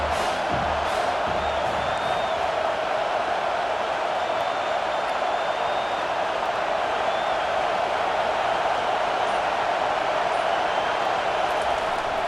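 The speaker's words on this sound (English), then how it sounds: "this crowd is tearing the lid off this place" A packed college football stadium crowd at an Auburn game roars in a steady, dense wall of cheering and whooping that holds for the whole stretch, loud and continuous with no pauses.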